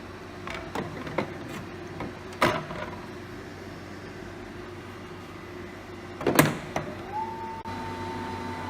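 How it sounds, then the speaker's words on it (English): A TOC-L autosampler at work: a needle descends to pierce a foil seal and a syringe draws liquid through PTFE tubing, heard as scattered mechanical clicks and motor whirs over a steady low hum, ending in a sustained electric whine. "A needle comes down, pierces the foil and draws up the liquid through the PTFE tubing using the syringe"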